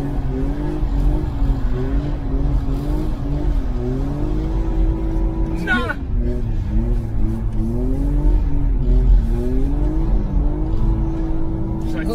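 A drift car with an open differential revs hard through an illegal street drift, its engine note climbing and falling in long sustained sweeps with a brief sharp tire squeal near the middle, loud and close throughout.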